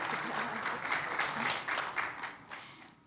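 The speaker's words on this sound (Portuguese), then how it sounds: "queria pedir uma salva de palmas mesmo de agradecimento para você" A small group at a conference talk applauds in a steady patter of claps, close and moderately loud, fading out toward the end.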